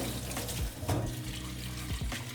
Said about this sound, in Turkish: Şimdi sıcak suyumu açacağım.